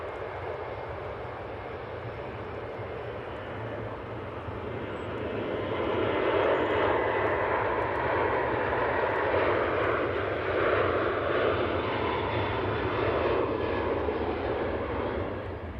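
An Aer Lingus A380 airliner arrives at Manchester Airport, its engine roar swelling about a third of the way in and then holding loud and steady to the end.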